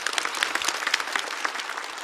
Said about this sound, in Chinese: 再次把掌声送给